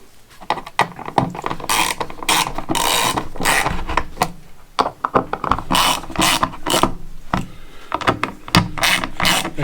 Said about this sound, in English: Now we can go ahead and grab the ratchet.